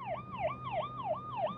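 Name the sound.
police car siren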